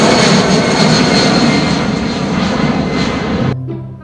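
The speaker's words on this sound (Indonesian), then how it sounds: "kalau yang ini adalah pesawat Timur Airways" Loud, steady roar of an airliner's jet engines from a Timur Airways plane, with broadband rushing noise filling the clip before cutting off abruptly near the end, leaving a low residual hum.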